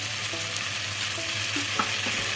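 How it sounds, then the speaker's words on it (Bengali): Pointed gourd curry with curry leaves and ginger-cumin paste stirred in a pan: a soft, steady sizzle with faint, occasional spoon scrapes, fairly quiet and without talk. "এবার ভালোভাবে এটাকে নেড়ে নিব যে ভালো করে নেড়ে নিচ্ছি এটাকে"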